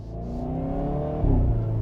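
A Hyundai Veloster N hot hatchback's engine pulling away, a low droning rumble that rises in pitch as the car accelerates, then steps up sharply as it revs harder, heard close from inside the car.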